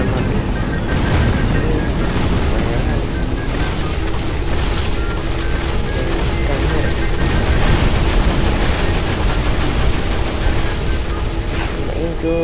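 Gunfire in the mobile battle game Free Fire, a dense continuous stream of sharp shots and booming bursts, loud and close, with excited voices talking over the shooting.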